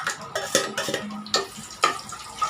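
Cinnamon and cloves sautéing in oil in a pressure cooker: several distinct scraping and clinking strokes of a spoon against metal, close and fairly loud, over a light sizzle, with no talking.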